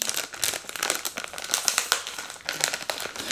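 A crinkly plastic Disney Tsum Tsum blind bag being opened, giving close, continuous crackling and crumpling rustles with sharp bursts of crinkle and no talking.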